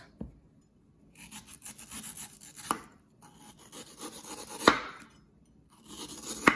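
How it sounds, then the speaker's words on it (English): A knife trims mango flesh around the seed, giving soft scraping and rasping cuts with a few sharper taps of the blade against the board, close and fairly quiet, with no talk. "we're gonna cut around the seed"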